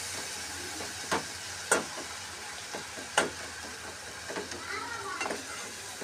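Ground masala paste is stirred into hot oil in a pan for a Malvani-style dish, giving a soft, steady sizzle broken by a few sharp spoon scrapes.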